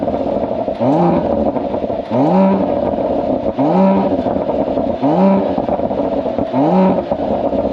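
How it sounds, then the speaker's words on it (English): A 2021 Mercedes-AMG GLE 53 Coupe's AMG performance exhaust revs repeatedly, five aggressive bursts spaced about a second and a half apart, each rising sharply over a rumbling idle, close and loud. "It basically is a very angry sounding SUV crossover vehicle, and it's only enhanced by the AMG performance exhaust"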